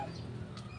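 A rooster heard faintly at a distance in one brief call, alone without talk.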